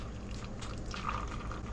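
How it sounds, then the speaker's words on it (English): Ginger tea poured over coffee, giving a steady, close liquid splash and trickle that runs throughout at moderate level with no talking. "You just pour ginger tea"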